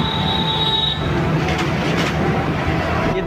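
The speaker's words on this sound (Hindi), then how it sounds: "गाड़ियाँ वगैरह बहुत ज़्यादा चल रहा है ना" Heavy traffic rumbles on Howrah Bridge in Kolkata, a steady loud roar of vehicles with rattling and metallic squeal, continuous throughout and with no speech.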